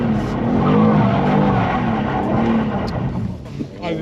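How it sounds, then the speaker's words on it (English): A 600hp BMW G87 M2 in drift mode spins a donut at Santapod, its engine roaring loud and sustained with a strained, rising-and-falling drone, tyre squeal blended into the noise, and a voice coaching over it. "just go for a donut only and try and keep it smooth revs"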